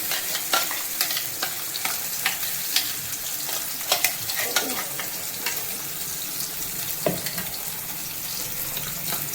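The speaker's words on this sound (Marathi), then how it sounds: "आणि आता आपण मसाला फ्राय करून घेणार आहोत" Masala spice paste fries in oil in a kettle-style pan for a Maharashtra-style fish curry, giving a continuous close sizzle broken by sharp scraping stirs throughout.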